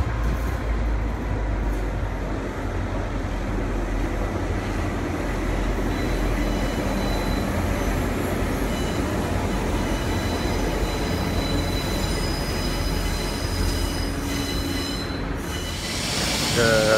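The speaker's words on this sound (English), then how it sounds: "This is Spirit of the Outback train from Long Ridge to Brisbane Roma Street terminating here" The Spirit of the Outback passenger train, running from Longreach, arrives and terminates at Brisbane's Roma Street Station. A steady, loud rumble of rolling railcars fills the platform, with high wheel squeal building near the end.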